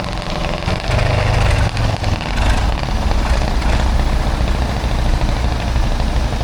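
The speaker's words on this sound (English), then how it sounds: "These are all traction engines." Steam traction engines rumble steadily with a deep, continuous low chugging drone that stays loud and close throughout, at a steam working weekend.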